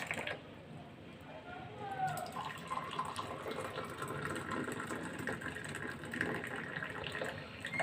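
Tea pours through a strainer into cups, a soft continuous trickle of liquid at low volume, with a person talking over it.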